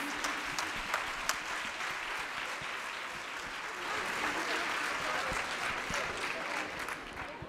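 An audience at a school music concert applauding student musicians, a dense, sustained roomful of clapping that holds steady throughout with no voices over it.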